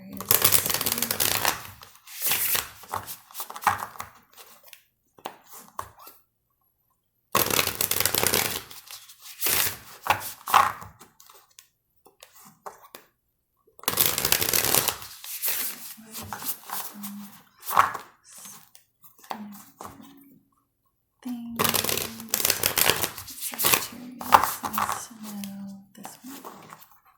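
Tarot cards being shuffled in several long bursts of riffling and sliding, close and crisp, separated by gaps of silence, with a voice speaking briefly in between.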